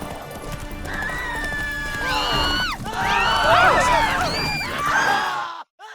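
A horse in The Witcher 3 galloping with rhythmic hoof clip-clop and loud whinnies and neighs rising over it, with a crowd-like background din beneath, ending abruptly.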